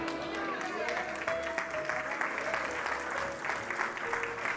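Church congregation applauding during a worship service, a steady dense wash of many hands clapping throughout, with faint voices mixed underneath.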